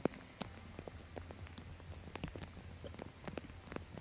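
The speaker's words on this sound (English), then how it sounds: "You can hear the rain on our audio." Rain falls trackside at the Chicago street race, scattered drops pattering and ticking irregularly on a surface close to the microphone over a soft, steady wash of rainfall.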